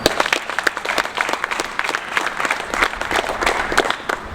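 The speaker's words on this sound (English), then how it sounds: "Please give him a round of applause." Audience applause for a city mayor at a public announcement event, a steady dense patter of many hands clapping close by, sustained evenly throughout with no voices over it.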